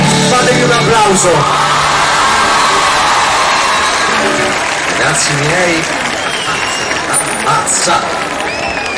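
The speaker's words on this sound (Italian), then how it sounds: "Fatevi un applauso." A large outdoor concert crowd in Cisterna di Latina cheers, whistles and applauds steadily, with shouts rising through the dense roar while someone speaks over it into a microphone.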